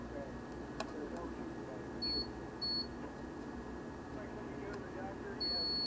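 A multimeter gives short, clean continuity beeps while probing a Motorola Quantar radio exciter during repair, three brief tones over a quiet hum, the last one held longer.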